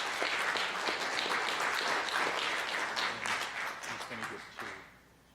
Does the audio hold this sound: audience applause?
yes